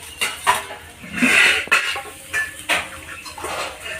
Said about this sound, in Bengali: এবার এর মধ্যে আমি গরম জল ঢেলে দেবো।